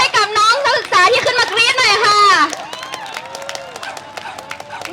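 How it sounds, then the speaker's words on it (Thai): A voice speaks first at a political rally, then an audience bursts into scattered, crisp applause that carries on at a lower level, with a faint tonal sound running underneath. "ขอเสียงปรบมือ"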